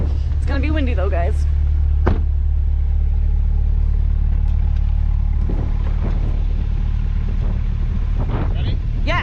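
A 2021 Chevrolet Corvette Z51 launches hard from a stop, its engine roaring loudly under heavy wind buffeting, with people talking over the acceleration inside the car.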